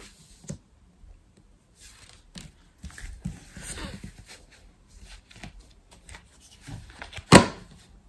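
Tarot cards being shuffled and handled for a cross spread: soft, intermittent riffling and rustling close up, fairly quiet, with a sharper snap of cards near the end and no speech.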